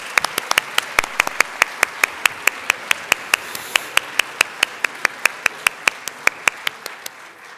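Sharp, evenly spaced claps ring out steadily over a wash of broadband crowd noise at a staff service and recognition awards ceremony, holding a brisk, regular rhythm throughout.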